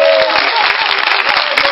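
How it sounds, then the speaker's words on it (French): A church audience cheers and claps in praise of Jesus, a loud, steady wash of applause filling the whole clip with shouts rising over it. "Est-ce qu'on peut acclamer Jésus-Christ de Nazareth?"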